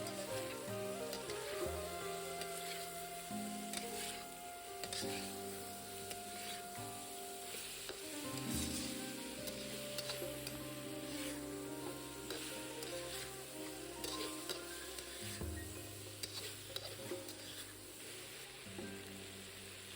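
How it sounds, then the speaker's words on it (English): Peppers and pork stir-fried in a hot wok give a loud, steady sizzle with frequent scraping and tossing clatter throughout, and no voices are heard. "Add the peppers in. Stir fry for 10 times."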